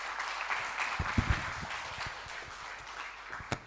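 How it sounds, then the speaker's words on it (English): An audience at the launch of an agricultural biotechnology forum chapter in Malawi applauds a guest of honor, moderate steady clapping with a few sharper claps standing out. "another big round of applause to the guest of honor"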